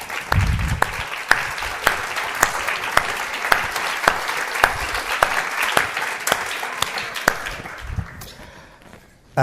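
An art-talk audience applauds the technical crew, a full, loud burst of clapping with sharp individual claps that gradually thins and fades toward the end.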